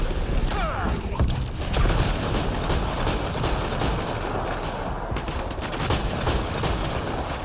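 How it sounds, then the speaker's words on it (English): Shotgun blasts from combat in Mass Effect: Andromeda, a rapid string of loud, sharp reports with booming impacts and mechanical clatter, packed closely together over several seconds with no talking. "Time for the shotgun."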